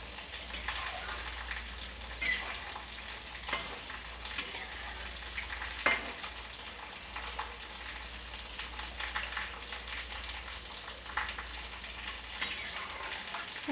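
Soybean koftas frying in oil, a soft, steady sizzle with faint bubbling and occasional light stirring, fairly quiet and close with no voices.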